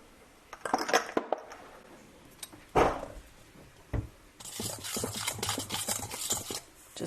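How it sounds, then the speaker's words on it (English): A spoon stirs a garlic powder seasoning mixture in a bowl, with close, irregular scraping and rubbing strokes, a few sharp clinks early, then denser continuous scraping in the second half; no voices. "Just give this a stir so it's all kind of evenly distributed in the mixture."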